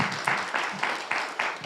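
A small group at a city council meeting applauds, a brief ragged burst of clapping in loose repeated pulses, moderately close.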